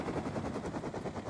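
Mini helicopter in the video game Rust, its rotor thumping in a rapid, steady chop for just over a second, continuous and moderately loud with no voices.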